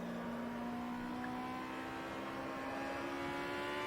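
Aussie Racing Car engine in the Automobilista racing sim at Hidden Valley Raceway, holding a steady, high-revving drone that climbs slowly in pitch throughout, with no talking.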